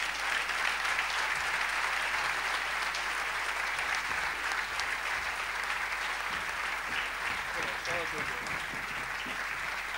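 Crowd at a Festa Major town celebration in Riba-roja d'Ebre applauding the festival crier, a steady, full wash of clapping that holds evenly from start to finish.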